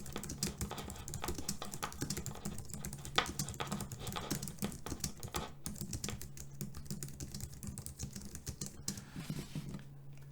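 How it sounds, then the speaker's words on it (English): Typing on a Logitech MX Keys keyboard without mechanical switches gives soft, muted, rapid key taps in an irregular stream, quiet and close, with no one speaking. "let's hear the MX keys which don't have switches"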